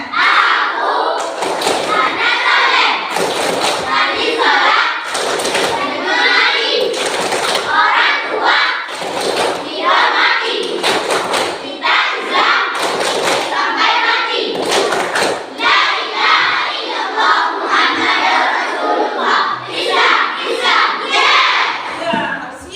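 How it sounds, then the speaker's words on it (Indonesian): Schoolchildren in a classroom clapping together in patterned rhythmic bursts, loud and close, mixed with thuds and excited group chanting and shouting across a long stretch. "Ibu kasih tepuk tangan dulu"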